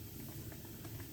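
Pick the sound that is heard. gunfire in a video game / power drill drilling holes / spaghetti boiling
spaghetti boiling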